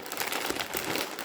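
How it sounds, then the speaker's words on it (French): Gift wrapping paper is torn and crinkled close up in a quick, dry burst of rustling that lasts about a second. "j'ai déchiré le papier cadeau"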